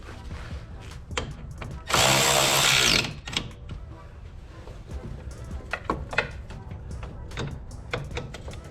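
A power driver whirs in one loud burst of about a second while fastening headlight screws on a 2010s BMW F10 535xi, followed by clicks, taps and handling noises of tools and parts.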